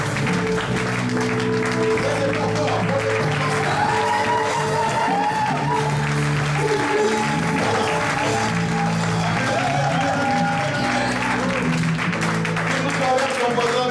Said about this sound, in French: Acclamons très très fort notre Seigneur